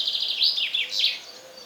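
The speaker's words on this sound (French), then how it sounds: "Ah, les hirondelles, elles se font plaisir là." Swallows skimming and bathing at the surface of a pond beside a forest abbey give a quick series of thin, high twittering calls, fairly close and clear over quiet outdoor ambience, with no voices.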